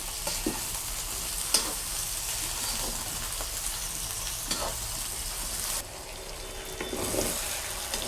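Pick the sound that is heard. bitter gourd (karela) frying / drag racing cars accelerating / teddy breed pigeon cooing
bitter gourd (karela) frying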